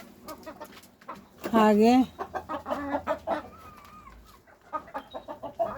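Chickens in a backyard coop with a mesh-covered shed cluck and squawk, including one loud drawn-out call near the start, while someone talks over them throughout.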